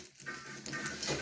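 Eggplant slices fry in a pan for begun bhaja, giving a brief, soft, continuous sizzle close by.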